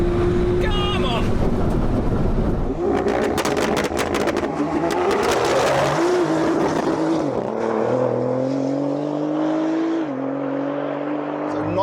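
A Nissan GT-R launches down a runway drag strip, its engine revving loud and close before holding a long rising pull into the distance, with crowd voices and cheering beneath.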